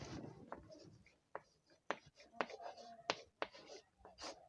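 Marker or chalk strokes on a classroom board during an English grammar lesson, a series of short sharp scratches and taps spaced irregularly, close and fairly quiet.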